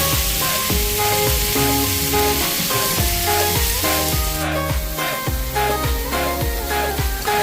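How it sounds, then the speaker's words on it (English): Loud, steady sizzling of chicken fajitas frying in a hot pan, a constant crackling hiss with a rhythmic clatter of stirring throughout. "Listen at that sizzle."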